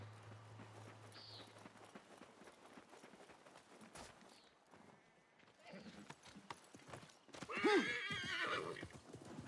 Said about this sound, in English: I prepared the horses.